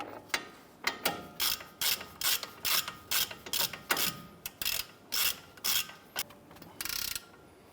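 A hand ratchet snugs down a caliper bracket bolt on a Ram 1500, a steady run of about twenty sharp clicking strokes close up with no talk.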